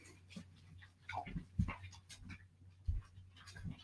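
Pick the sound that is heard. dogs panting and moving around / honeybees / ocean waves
dogs panting and moving around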